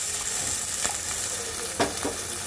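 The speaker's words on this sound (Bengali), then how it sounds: "এখন আমি দিয়ে দেব ঝোলের জন্য জল" Water poured into a sizzling fried spice masala for a curry gravy, a steady frying hiss with a brief splash and surge of crackle partway through, close and alone without talk.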